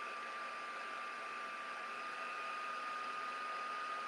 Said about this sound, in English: So I'm just going to heat set this up.